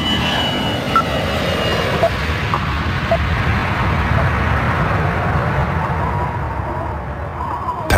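An AirAsia airliner on flight 8501 takes off, a loud, steady engine roar holding throughout with a dense low rumble and no clear change in pitch.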